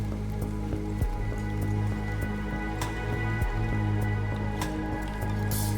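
Rain falls in the Endzone A World Apart survival game, a soft steady patter with occasional drips and splashes running under a sustained musical score, no voices.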